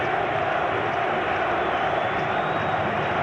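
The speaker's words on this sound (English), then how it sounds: "Now listen to the crowd." Hockey arena crowd in Detroit during a 1993 playoff game between Toronto and Detroit, a steady loud roar of cheering voices filling the building without pause for the whole stretch.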